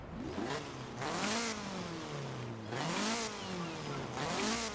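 A Toyota Celica GT with a naturally aspirated 2-litre engine revs in the Forza Horizon 4 racing game, three rising-and-falling revs in a row, moderately loud and clear.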